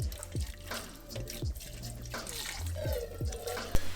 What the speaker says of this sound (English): you'll want to empty out all of the contents out in the sink and rinse it out really well